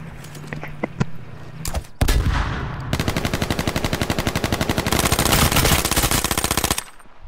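Rapid automatic gunfire in the battle game H1Z1 on PS4, a few scattered single shots first, then a long sustained burst of loud, evenly spaced rounds lasting several seconds before cutting off.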